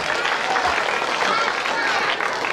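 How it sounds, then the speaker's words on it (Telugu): Audience applause fills a school farewell meeting: dense, steady clapping from a crowd, loud and continuous throughout without a break. "Big claps."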